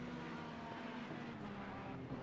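Race car engines in Assetto Corsa Competizione accelerating up Paddock Hill at Brands Hatch drone in a steady, dense, moderately loud roar, with no talking.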